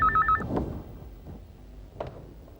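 A telephone rings indoors in a domestic drama scene, a short electronic trilling burst at the very start that cuts off quickly and leaves a quiet room.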